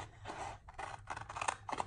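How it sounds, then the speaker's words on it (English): Transfer scissors snip through Chalk Couture chalk transfers in a quick series of crisp, close cutting strokes, quiet and with no talking. "I just love the transfer scissors. They just cut so nicely."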